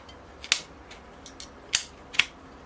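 Pruning shears cut through thick bald cypress bonsai roots during repotting, giving three sharp, close snips with a couple of fainter clicks between them, and no talking.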